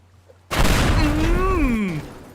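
A propane tank explodes in the voxel demolition game Teardown: a sudden loud blast bursts out of near-silence and rolls on as a sustained broadband roar for about two seconds, with a voice crying out over it.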